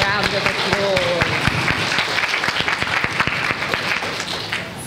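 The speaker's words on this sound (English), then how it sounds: "Let's give yourselves a round of applause." Applause from a school audience at a Year 6 awards show, dense clapping from many people with voices talking and calling out over it, fairly loud and close.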